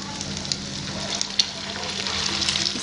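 Egg-coated potato fingers fry in hot oil over a medium-low flame, giving a steady, fairly loud crackling sizzle with scattered small pops throughout.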